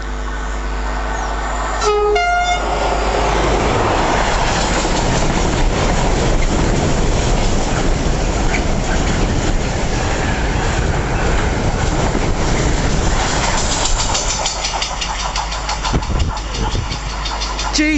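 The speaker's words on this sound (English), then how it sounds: "We got another Freightliner 90 now." A Freightliner Class 90 locomotive hauls a train through Kelvedon Station, sounding a horn blast before a loud, sustained roar and rumble of wheels passing close by.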